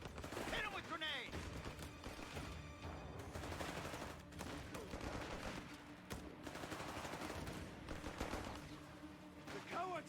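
Sustained gunfire from an Italian campaign battle at Salerno in Company of Heroes 3 crackles in dense, overlapping bursts of rifle and machine-gun shots throughout, fairly faint overall, with shouted voices mixed in.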